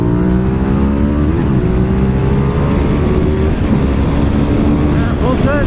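A Honda RC51 VTR1000 SP2 V-twin sport motorcycle pulls hard, its engine note rising in continuous loud acceleration under heavy wind rush, heard up close from the rider's position.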